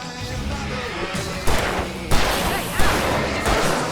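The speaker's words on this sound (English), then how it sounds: "I can set off more of the fireworks from here and help you out!" Fireworks bursting during a stage fight in the video game Alan Wake Remastered, several sharp booming blasts at irregular intervals over a noisy, loud background with a brief shout.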